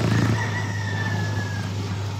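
A rooster crows once in a long drawn-out call, heard from a little way off over a steady low hum and background noise, with no talk.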